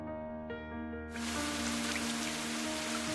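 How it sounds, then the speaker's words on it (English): Rain falls onto concrete, the droplets starting as a soft patter and then swelling abruptly into a loud, steady, dense downpour that continues without a break. "Resounding noise of droplets hitting the concrete crescendos as the rain continues to fall."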